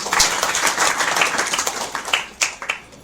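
Audience clapping at a satsang gathering, scattered and uneven rather than a full ovation, with a few sharper individual claps near the end.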